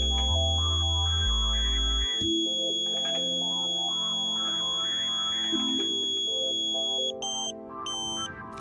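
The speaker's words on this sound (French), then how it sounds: "Vous devez entendre la tonalité baisser une deuxième fois." A satellite finder gives a steady high electronic alignment tone while a dish is aimed for satellite internet reception. Other buzzy processed tones shift in pitch beneath it, and quick beeping bursts come near the end.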